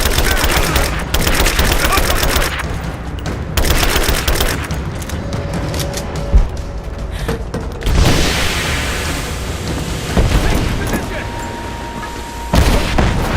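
Gunfire in the Rise of the Tomb Raider video game comes in repeated loud bursts of rapid shots mixed with booms, with stretches of quieter combat noise and voices calling out between them.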